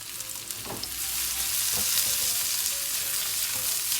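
Onions and mushrooms fry in extra virgin olive oil, giving a steady, close crackling sizzle with a few soft stirring knocks and scrapes; no one speaks.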